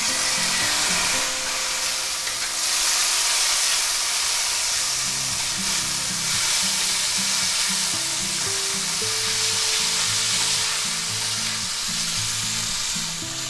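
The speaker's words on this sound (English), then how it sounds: "Now we're going to add 1 tablespoon of minced garlic." Minced garlic sizzles loudly and steadily in hot oil in a pan for a vegetable and steak stir fry, with scraping, rhythmic stirring clatter running throughout and no talking.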